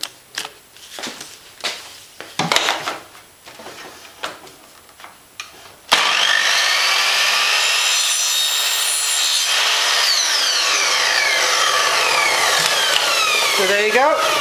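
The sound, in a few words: sawing a tapered vacuum hose to length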